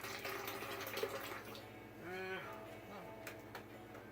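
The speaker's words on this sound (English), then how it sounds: "We'll start with some cactus water." Cactus water is poured into a blender for a smoothie, a faint, steady splashing fill with a brief rising gurgle.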